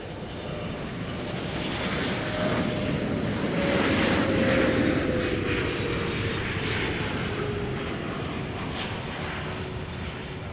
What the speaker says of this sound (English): Ooh, I can hear those engines.